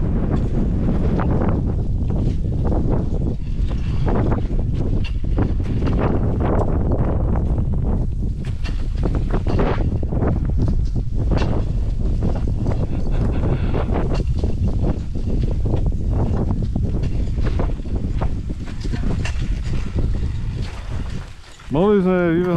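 On a winter ascent of Satan peak, wind blows hard through a mountain gully, a loud, constant roaring gust that buffets the microphone.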